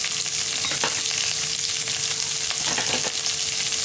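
Onions and lentils fry in a pan for tomato dal chutney, giving a steady, close sizzle with a few faint stirring scrapes and no talking.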